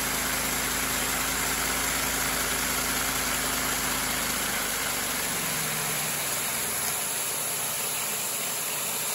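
A LEGO two-cylinder engine model drives a three-speed transmission, giving a close, steady mechanical whir whose low rumble drops away about halfway through.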